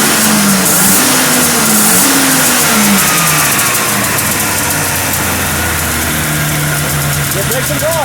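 A Rotax 503 engine with carburetors revs under throttle on a Safari gyroplane, a loud continuous mid-pitched drone rising and falling in pitch, close and unbroken.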